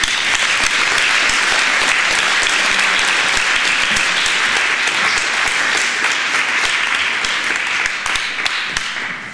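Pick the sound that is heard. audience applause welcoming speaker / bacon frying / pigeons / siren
audience applause welcoming speaker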